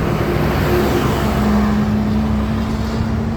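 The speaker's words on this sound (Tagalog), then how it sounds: "Sasakay tayo ng tricycle papunta doon." A motorized tricycle passing through busy street traffic, a loud steady engine rumble with a droning whine rising in the middle, surrounded by general road noise and no talking.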